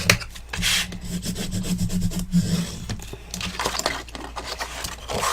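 Paper is folded and creased along a score line while making a gift box album, with close rubbing and rustling strokes and soft scraping as the fold is pressed flat.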